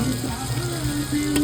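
Fish fries in a pan with a brief, steady hiss of hot oil over a low background hum.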